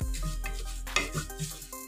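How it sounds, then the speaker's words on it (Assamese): Cumin seeds frying in a pan with dry fruits on a gas stove, soft crackling sizzle with light stirring and a spoon clink, close and fairly quiet, no talk. "আৰু সিরা খিনি আমি অকমান ভাজি লম"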